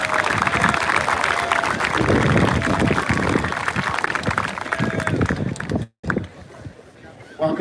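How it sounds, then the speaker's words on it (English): Crowd applause for athletes at a state football championship ceremony, dense sustained clapping with voices mixed in, easing toward the end and broken by a brief cut. "Let's have a final round of applause for them."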